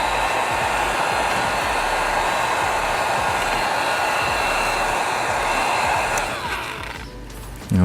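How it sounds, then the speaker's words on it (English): Heat gun blowing hot air onto the chrome delete film on a 2017–2020 Nissan Armada front grille: a steady, loud, close whooshing roar that runs unbroken, then dips and shifts near the end. "So just grab your heat device, apply heat."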